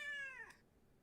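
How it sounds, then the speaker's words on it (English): A cat gives a single clear meow, close and fairly loud, its pitch sliding downward before it fades into quiet background hum. "I heard a cat!"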